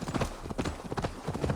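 Horse hooves trotting in Assassin's Creed Valhalla, a quick, even clip-clop rhythm of repeated hoof strikes, close and steady throughout.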